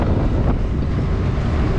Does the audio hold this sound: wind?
yes